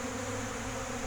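Honeybees buzz around exposed honey outdoors, a faint, steady hum from many insects at once, with no voices.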